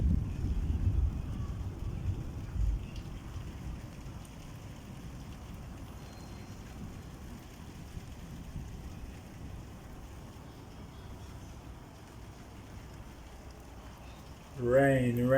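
Heavy rain pours down during a thunderstorm in Luton, UK, a steady broad roar with low rumbling at the start, and a voice briefly cuts in near the end.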